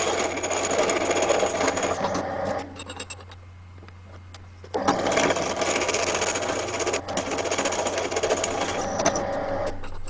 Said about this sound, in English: That incidentally is a Sealy 12-speed pillar drill.